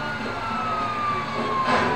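A fire truck siren wails in GTA 5, steady and moderately near, with a faint pitch glide over a background of engine and traffic noise; no voices over it.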